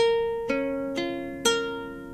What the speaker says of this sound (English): So if I were to pluck each string individually, it would sound like this.